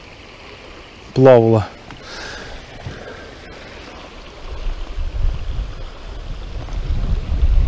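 Clear river water burbles at the outflow of a riffle in a low, continuous rush that grows louder toward the end, with wind buffeting the microphone and a brief spoken word near the start.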